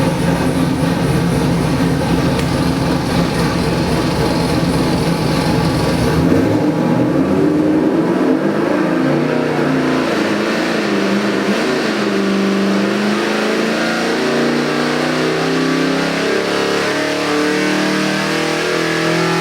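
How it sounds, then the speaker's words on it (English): A 347 cubic inch small-block Ford crate engine, rated at 425 horsepower, fires up and runs loud and steady, then climbs through sustained revs with a rising, throaty roar and no talking. "How's that for firing up? You got a beautiful little motor here."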